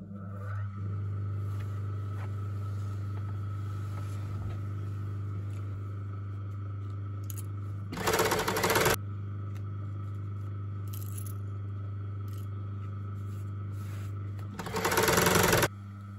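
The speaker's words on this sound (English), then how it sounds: "I'm going to get the main curtain now blind hemmed." An industrial blind hem sewing machine stitches the hem of a lined curtain with a steady close motor hum, two short louder bursts breaking through midway and near the end.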